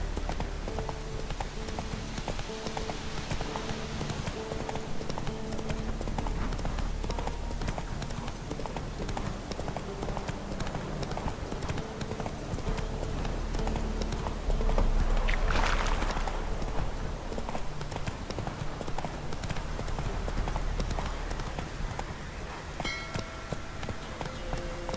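Roach, the horse in The Witcher 3, gallops with a steady, close clip-clop of hooves running throughout, set against continuous game ambience and music.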